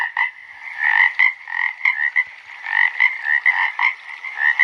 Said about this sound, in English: That's the frog.